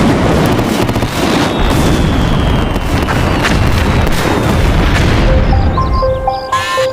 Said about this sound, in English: No one knows exactly what set the fireworks off